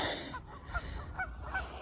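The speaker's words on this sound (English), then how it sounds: "Got some geese out there too hollering, they can see me." Geese honk in short bursts from a distance over flooded fields, several calls scattered over a low outdoor rumble.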